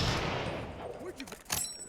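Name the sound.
Martini Henry rifle gunshots from Fallout 4 London mod, video game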